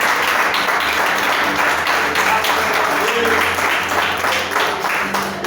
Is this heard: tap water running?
no